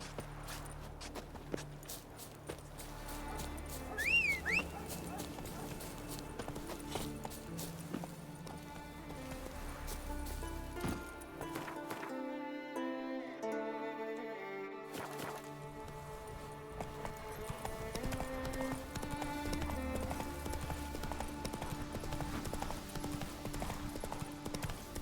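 Hooves of Roach, the horse in The Witcher 3, pound in a steady galloping clip-clop over layered game music, continuing with only a brief lull partway through.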